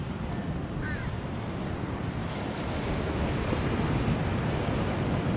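Surf washing onto a beach shoreline, heard up close as a steady broadband wash with gusts of wind noise on the microphone and a faint crow call in the distance.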